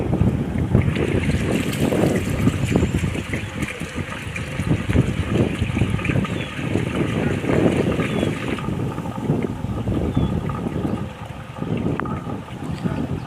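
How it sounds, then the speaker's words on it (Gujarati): Heavy monsoon rain pours over waterlogged farm fields, a dense continuous roar with gusty wind buffeting the microphone throughout, steady and loud with no talking. "અમારા ખેતરોમાં જે માંડવી પણ નથી દેખાતી એટલું પાણી ભર્યું અને એકદમ ફૂલ વરસાદ છે."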